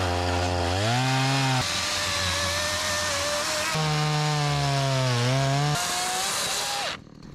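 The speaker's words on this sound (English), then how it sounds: "this becomes the battle of the chainsaws, because Sam has a new electric chainsaw, and John has his gas-powered chainsaw" A new electric chainsaw and a gas-powered chainsaw cut through a fallen tree in snow, taking turns, with loud close engine whines rising and falling between cuts before cutting off abruptly near the end.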